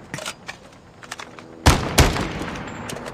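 Gunshots in a Call of Duty Mobile battle royale match: scattered faint pops, then two loud, close heavy blasts about a third of a second apart, followed by quieter shots.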